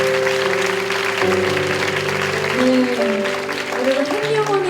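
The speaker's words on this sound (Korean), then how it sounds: "우리 중보기도 팀들과 또 우리 순장님들 다시 한번 사랑과 축복의 박수하도록 하겠습니다" Church congregation applauding its intercessory prayer teams and small-group leaders during a young-adult worship service; a steady wash of clapping fills the hall beneath sustained keyboard chords that shift pitch as they continue.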